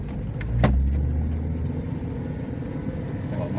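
A Chevrolet Celta rolling along a back street during a test drive after a speed-sensor fix, its steady low engine and road rumble continuous and fairly loud, with a brief clunk near the start.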